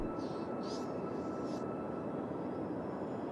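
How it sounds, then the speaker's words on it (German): A passing airplane in the city-building game Cities Skylines, a steady broad engine roar that sits at an even level throughout. "warum fliegt ein Flugzeug?"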